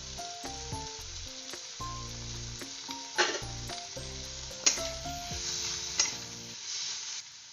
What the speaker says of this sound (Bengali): পেঁয়াজ কিছুটা ভাজা হয়ে গেছে